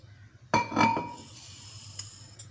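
Black salt and sugar dropped into a metal or glass vessel while making falsa (Grewia asiatica) juice: a sharp clink followed by a few ringing taps and light rattling, close and brief, then quiet.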